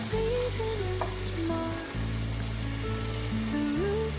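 Paneer sizzles and fries in a pan as the pieces are flipped to the other side, a steady close crackle with faint scraping and no talk, while music plays underneath.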